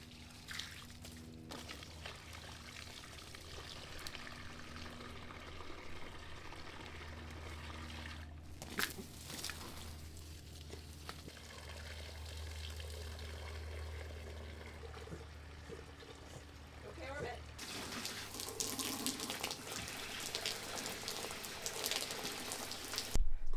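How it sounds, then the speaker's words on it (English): Water pours and trickles onto potted patio plants during watering, a soft, faint splashing and dribbling that shifts in intensity, growing busier toward the end, with no talking. "So we're going to get all the plants watered."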